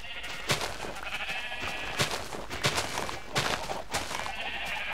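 Sheep in the Minecraft video game bleat repeatedly in short, bright calls over a constant background hum, several bleats spaced irregularly across a few seconds.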